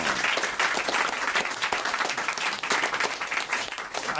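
Studio audience applause on a French radio or TV talk show, a dense steady wash of clapping that holds at an even level throughout with no voices over it.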